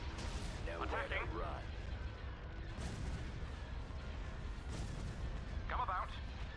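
Laser cannons fire in a Star Wars space-battle game as a few sharp blasts spaced a couple of seconds apart, punching through a rumbling engine bed, with radio-style chatter in between.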